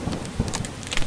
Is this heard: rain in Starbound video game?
yes